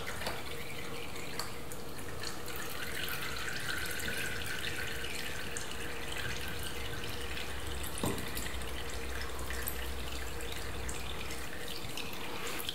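Old motor oil draining from a Tiger 660 motorcycle engine during winter-storage preparation, a steady continuous trickling, splashing flow heard close up with no talk.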